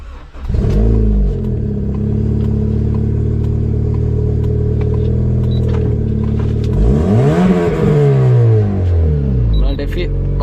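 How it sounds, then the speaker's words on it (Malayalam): Honda Civic engine started and revved in a car customizing workshop in Kerala, a loud steady running drone that climbs and falls in a strong rev partway through, close and continuous. "ഞാൻ വണ്ടി സ്റ്റാർട്ട് ചെയ്യാൻ പോവുകയാണ്."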